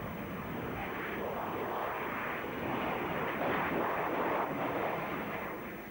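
Powerful Sea Harrier jet engine roaring at full power for takeoff at Yeovilton, a dense, loud, continuous blast that swells slightly before easing at the end.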